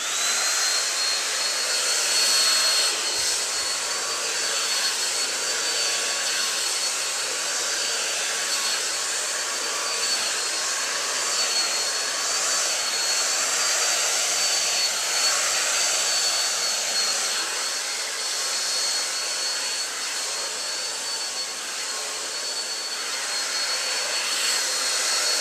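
A hair dryer blows steadily on hair for the whole stretch, a loud, constant broadband whoosh with a faint high whine, no talking.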